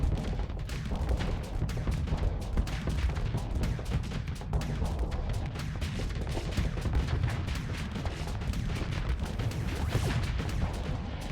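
Rapid, dense cannon fire in a space battle video game, a continuous barrage of booming shots and impacts pounding steadily without pause.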